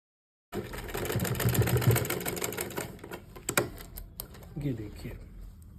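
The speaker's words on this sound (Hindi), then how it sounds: "यहाँ पर आपको सीधी सिलाई लगा लेनी" A sewing machine running a straight stitch to attach lace to fabric for a small doll dress, a close, steady mechanical whir that slows and stops, with faint talk nearby.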